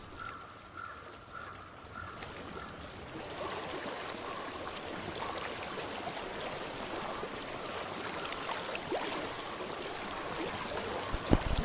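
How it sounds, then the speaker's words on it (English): Flowing stream water in the dark fantasy game Hellblade: Senua's Sacrifice, a steady broadband rush that swells after the first few seconds and continues evenly, with faint bird-like chirps early on and no talking. "I hear water. Go to it."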